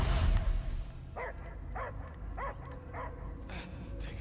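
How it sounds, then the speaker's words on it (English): A dog barks in the Guardians of the Galaxy video game, a series of five or six evenly spaced, moderately loud barks following a burst of rumbling noise, set against a low, continuous game ambience. "I can hear him. I hear him barking."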